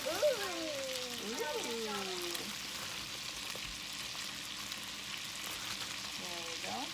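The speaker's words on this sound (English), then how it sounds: "And let's put some broccoli in there." Broccoli sizzles and crackles in a hot pan with chicken, a continuous frying hiss throughout, while a child's and an adult's voices talk over it near the start and end.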